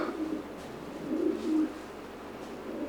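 Soft, low coos from a breeding pigeon repeat a few times at a moderate distance against a quiet, steady background.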